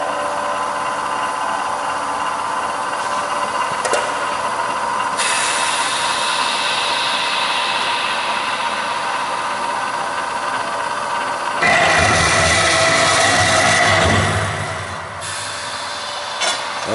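A Scotchman semi-automatic cold saw runs a cut through a workpiece, a steady loud mechanical drone with a louder, rougher burst of cutting noise late on before it eases off, no talk.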